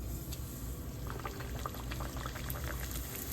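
A puri for Kolkata-style fuchka dropped into hot oil, a faint, continuous bubbling fry with small crackles and no voices.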